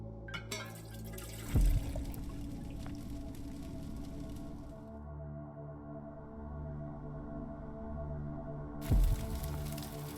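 In the video game The Silent Age, a fire extinguisher is filled with water, a soft gurgling, squishy liquid sound with two brief sharp thumps at start and end, quiet and alone.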